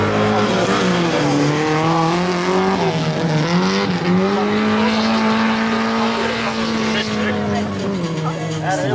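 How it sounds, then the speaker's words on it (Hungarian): A Mitsubishi Evo race car roars through a timed run at a horsepower competition in Ádánd, Hungary, its engine loud and continuous with rising and falling revs as it passes near, while an announcer talks over it. "Közben nézzük, Bakonyi Csaba befutója az Evo-val."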